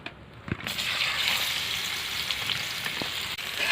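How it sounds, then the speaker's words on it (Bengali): Raw mango pieces fry in mustard oil in a kadai, giving a steady, moderately loud hiss of sizzling with a couple of brief soft knocks, no talk. "তেলের মধ্যে আমগুলো দিয়ে দেব।"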